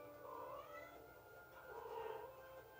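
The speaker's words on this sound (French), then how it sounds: "il y a pas mon chat là qui miaule" A pet cat meows indoors, two drawn-out, wavering cries with a faint hum underneath, quiet and somewhat distant.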